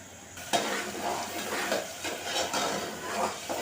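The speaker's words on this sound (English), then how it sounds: "You allow it to boil for some time." Steady bubbling and sizzling from a pot of okra soup on the heat, with occasional soft clinks and stirring noises, close and continuous.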